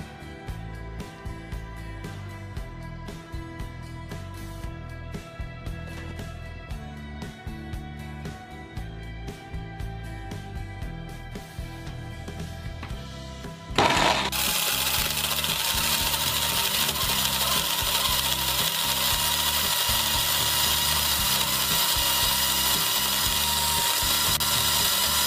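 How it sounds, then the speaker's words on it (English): A blender motor whirs steadily, then kicks up into a much louder, rougher roar as it churns smoothie ingredients, running continuously and close by. "So I'm just going to be throwing all this in the blender and get blending"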